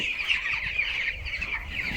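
A dense, continuous chorus of many broiler chickens clucking and peeping together in a crowded farm shed, with a low rumble beneath.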